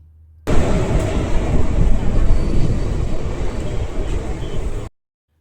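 A train pulling into Khagraghat station, its loud, steady rumble and roar filling the scene close by for several seconds before cutting off abruptly.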